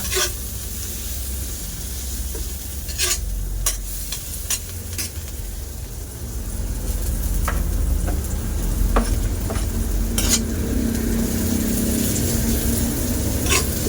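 Onion, garlic and ginger sauté in a hot pan for tinolang tahong, a continuous close sizzle that thickens and grows louder partway through, with scattered scraping stirs and no voices.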